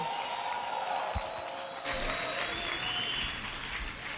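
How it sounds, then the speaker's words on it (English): Steady applause fills a union rally crowd in New York City, a dense, even wash of clapping from many hands lasting throughout, with faint cheering mixed in and no talk over it. "Let's give him a round of applause."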